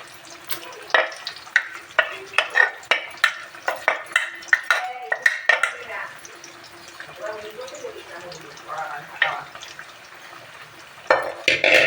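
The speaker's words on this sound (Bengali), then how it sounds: "এগুলো একটু ভাজা হয়ে গেলে কষিয়ে নেব" Pakoras for a Holi snack spread fry in a pan with a soft sizzle under repeated sharp clinks and taps of a utensil, and a voice speaks partway through.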